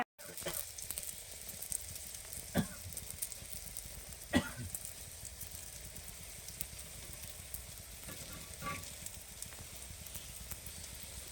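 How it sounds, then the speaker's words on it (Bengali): Parathas fry in hot oil with a steady close sizzle and crackle, broken by a few sharper pops and clinks, with no talking. "আমি লাল লাল করে ভেজে নেবো পরোটাগুলো"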